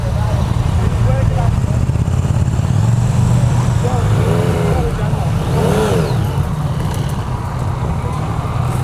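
A 2015 Yamaha MT-09 motorcycle pulls away smoothly, engine droning then rising in pitch as it accelerates, heard from the rider's position under wind rush and a voice talking.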